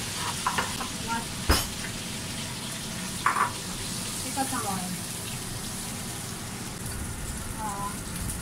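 Crab frying in hot oil in a pan, a soft continuous sizzle with occasional sharp clicks and stirring knocks, with faint voices talking over it.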